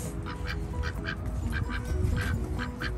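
Ducks quack repeatedly in short, rhythmic bursts over a busy low background, fairly close and loud, with no talking.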